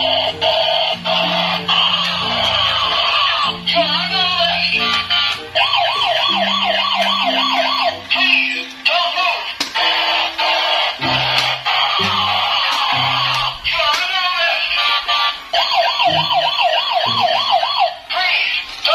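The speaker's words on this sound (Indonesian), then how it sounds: "Di sini ada mobil polisi." Police car siren in a dinosaur-themed video game, a loud wailing electronic tone sweeping up and down continuously, layered over game music and sound effects.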